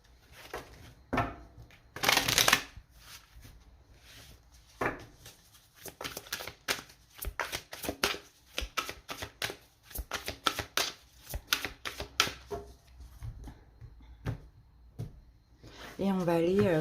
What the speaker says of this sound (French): on pose les 9 cartes